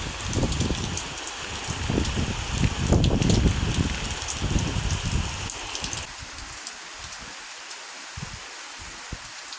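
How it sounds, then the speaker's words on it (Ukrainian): Rain falls steadily with a close patter and rustle, lighter and softer in the final few seconds. "але дощик ще йде"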